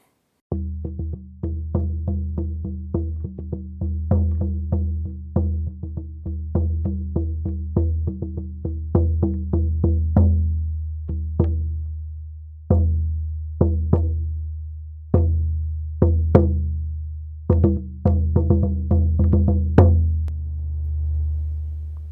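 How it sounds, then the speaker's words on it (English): A homemade hand drum struck repeatedly, recorded with a condenser microphone, fast steady rhythm at first, then slower, heavier hits with ringing low tones, growing louder toward the end. "and our drum, and it sounds like this"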